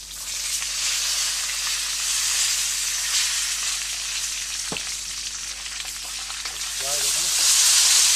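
Green peas and mushrooms sizzle and fry steadily in a pan for a stir-fry, a loud continuous crackle with brief stirring clatter and a voice speaking near the end.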